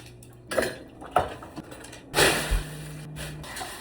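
Dishes, pots and cutlery being washed in a home kitchen of a family of six, giving a few distinct clinks and clatters, close and moderately loud, with quieter rattling between them.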